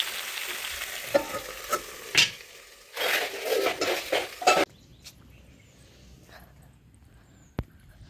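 Potato and cauliflower curry cooks in a pan, with clattering stirs and scrapes in bursts over a soft sizzle, followed by a quieter stretch with one sharp knock near the end.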